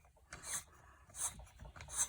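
Three slow scraping strokes of an expansion reamer cutting into a metal cylinder head, each a harsh rasp with quiet pauses between, close and fairly faint.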